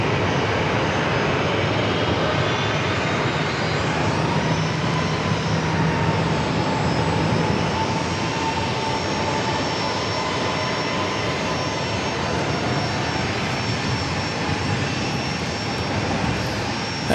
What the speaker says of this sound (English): That JetBlue flight coming in from Boston